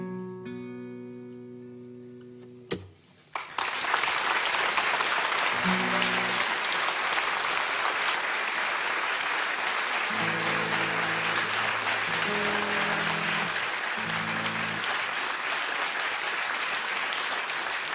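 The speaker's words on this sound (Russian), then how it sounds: "Я понял, что эти аплодисменты относятся к человеку, который первую записку положил." Concert audience at a performance in Brno bursts into sustained applause after a sung ending, dense steady clapping filling the hall for well over ten seconds, with some faint musical tones underneath.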